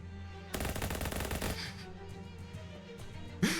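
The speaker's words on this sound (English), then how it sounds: "I shoot it" Gunfire from the video game Shadows Over Loathing: a dense burst of rapid shots lasting about a second, loud against a steady music backdrop, followed by quieter game sound and a sharp hit near the end.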